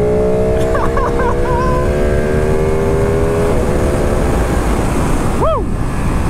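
A 2018 Ducati Panigale 1299R Final Edition motorcycle accelerates hard on a highway in race mode, its engine note rising steadily and loudly through a gear, with a brief shift and wind rush while a rider talks.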